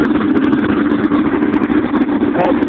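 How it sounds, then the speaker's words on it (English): A 1970 Sidewinder speedboat motor idles on a dry run, a steady close low throbbing rumble with even pulsing and no speech over it. "As you can see, the motor runs and idles just fine."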